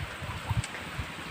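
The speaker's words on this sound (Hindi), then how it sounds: "देखिए चारों तरफ बारिश पड़ रहा है।" Rain falling all around, a steady soft hiss with a few dull drips and thuds nearby.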